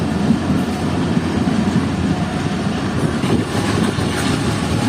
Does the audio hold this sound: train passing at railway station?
yes